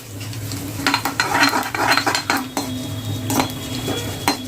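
Fennel and cumin seeds fry in oil over medium heat as a utensil stirs the pan, light sizzling under a run of metallic scrapes and clinks.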